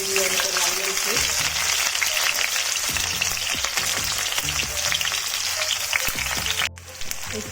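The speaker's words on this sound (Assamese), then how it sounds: "এতিয়া তেলটো গৰম হৈ গৈছে মই এতিয়াতে কাটি থোৱা পিয়াজখিনি দি আছো পিয়াজখিনি দি এনেকৈ লাৰি আছো" Chopped onions fry in hot oil for a curry leaf chicken, giving a loud, steady close-up sizzle broken by intermittent scrapes and knocks of stirring.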